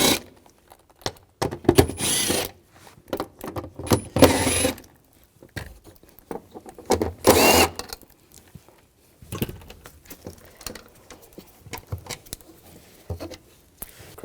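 A 10mm socket turning cover nuts off a 2007-2013 BMW X5 3.0L L6 while replacing the fuel transfer unit: close bursts of ratchet clicking and rattling, separated by quiet pauses and small metallic handling noises.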